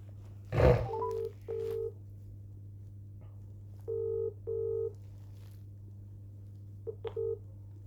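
A phone call placed to a law firm number, with a handset clunk followed by several separate dialing and ringing tones in short repeated pairs over a faint steady hum, all fairly quiet and close.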